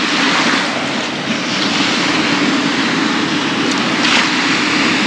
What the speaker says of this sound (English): today's a pretty good day out here. Pretty calm, not too rough. Small waves.